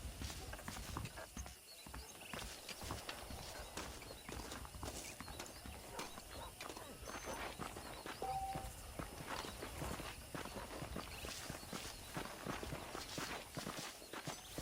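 Horse hooves clip-clop in the Red Dead Redemption video game, a steady rhythmic trot of hoofbeats over dirt that runs continuously at moderate volume, with a faint ambient background.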